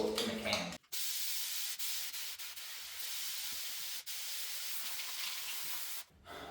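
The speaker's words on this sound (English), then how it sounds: "I'm going to spray a little bit heavier to go over the areas that I might have missed." An aerosol can of spray texture hisses steadily as it coats a wall, a continuous loud spray broken by short pauses near the start and end, with brief dips where the nozzle is released.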